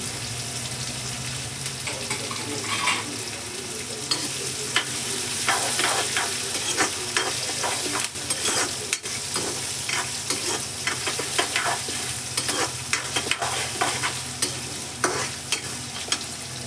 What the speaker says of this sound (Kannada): ಇದಕ್ಕೆ ಕರಿಬೇವು ಹಾಕೋತಾ ಇದ್ದೀನಿ.